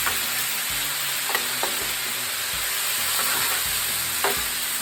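Vegetables and venison caramelized in butter and brown sugar stirred on a hot Blackstone griddle: a steady close sizzle with several sharp spatula scrapes and clacks against the flat top.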